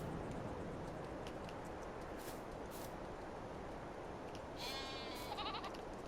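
Goats in Farming Simulator 22 bleat a few times in a shaded pen, short wavering cries rising over a steady wash of ambient game noise.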